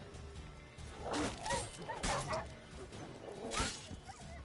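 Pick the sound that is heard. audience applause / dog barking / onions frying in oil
dog barking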